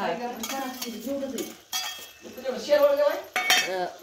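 Chickpeas stirred and sautéed in a pan for a village-style dry chana fry, with a spoon clinking and scraping against the metal at close range under intermittent conversation.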